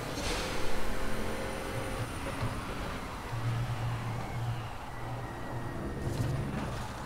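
An Audi R8 LMS GT3 race car engine in the Project CARS racing game, a mid-level droning engine note with shifting tones that rises and falls over several seconds, heard alone.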